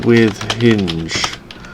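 Computer keyboard keys clack in quick bursts while someone talks over them, working on gate models in Blender 2.8; the taps are close and moderately loud.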